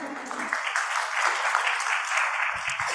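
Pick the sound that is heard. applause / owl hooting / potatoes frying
applause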